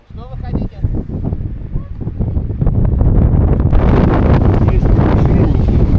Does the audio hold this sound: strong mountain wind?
yes